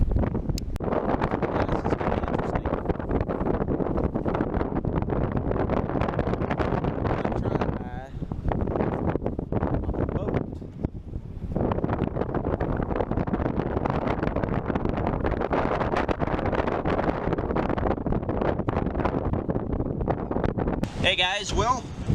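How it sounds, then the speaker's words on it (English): Strong wind buffets the microphone on a lake during early spring bass fishing from a boat, a loud continuous roar that fills the whole stretch, briefly easing at a couple of points, with voices talking beneath it. "it was a windy one on the lake today"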